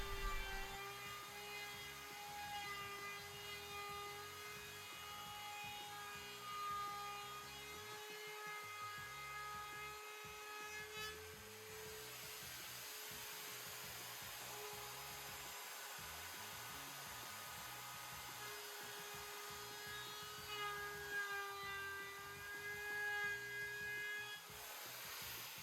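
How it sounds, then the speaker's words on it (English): Router fitted with a 1/4 inch roundover bit shaping the edge of a solid wood desk, a steady high-pitched motor whine with a continuous tonal hum and slight wavering as the bit cuts along the edge, quiet and constant throughout. "Using a 1/4 inch roundover bit in my router, I rounded over the edge of the desk."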